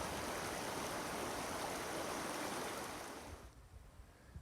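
A creek on the Pacific Crest Trail rushes loudly and steadily in a close, dense wash of flowing water that drops away and thins out in the last second.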